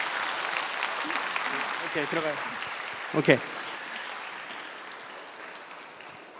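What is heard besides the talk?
congregation applause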